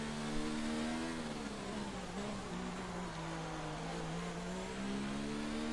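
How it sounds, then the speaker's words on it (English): F1 cars from the video game F1 2019 race at the Brazilian Grand Prix in heavy rain. A steady, loud engine whine holds throughout with pitch shifts as the cars pass by, with no voices over it. "Cars you just heard go by were second and third place."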